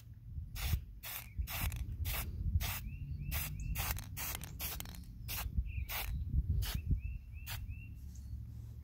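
An aerosol can sprays seal coat onto the wooden deck of a Titanic model ship outdoors on a windy day, making a string of short, sharp hisses over a steady rumble of wind.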